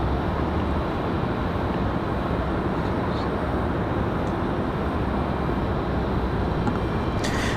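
A Southwest airliner departing Raleigh-Durham International Airport gives a broad, constant jet roar that stays steady and fairly loud throughout, with only faint hints of anything else under it.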